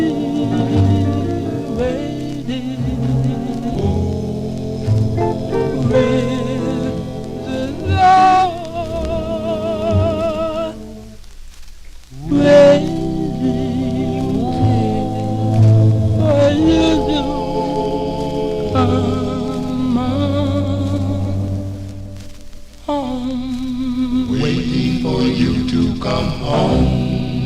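A 1954 doo-wop single on the Peacock label, played from a 45 record: steady vocal group harmony over backing instruments, continuous and full, with one brief dip midway.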